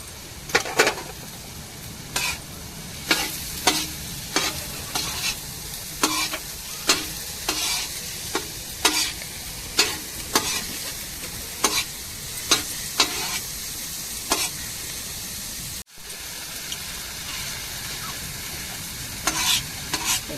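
Chopped tomatoes sizzle in a hot pan for a prawn fry, with a steady frying hiss broken by repeated sharp scrapes and clacks of a spatula stirring at a roughly regular pace.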